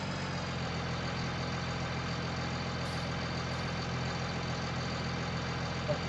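A tractor engine idles in the farming game Farming Simulator 19, a steady low droning rumble held at constant level throughout with no talk.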